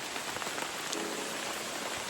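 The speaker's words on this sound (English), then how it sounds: "But that rain really was coming down." Heavy cloudburst rain pouring steadily over the Palenque ruins in Mexico, a dense, constant hiss of drops striking surfaces all around, close and loud with no voices.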